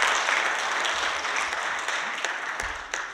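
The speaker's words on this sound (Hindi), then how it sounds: "इसके लिए तालियां ठोक सकते हैं आप" Audience applause at a business presentation in Delhi, a moderately loud, steady patter of many hands that slowly thins out, with a couple of sharper knocks near the end.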